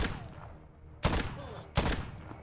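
Gunfire in the video game Voidtrain: two loud, sharp broadband bursts about 0.7 seconds apart, each with a short decaying tail over low game ambience.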